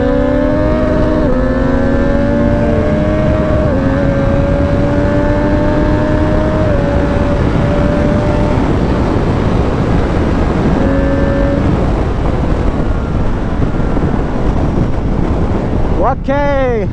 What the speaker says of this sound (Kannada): ಒಂದು short and simple ride on the street triple R